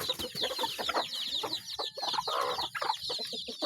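Native chickens, a hen among her chicks, cluck and chatter busily while being fed, with repeated short clucks and peeps close by.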